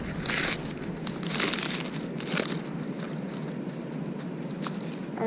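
Glass gem corn, an Indian variety, is shucked by hand in a garden, giving continuous close crinkling and tearing of dry husks with a few sharper rips.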